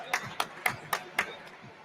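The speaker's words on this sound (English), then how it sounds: "Let's give the lads a round of applause." A handful of separate claps, about six slow, evenly spaced hand claps, in applause for football players, near and fairly quiet, with no crowd swell behind them.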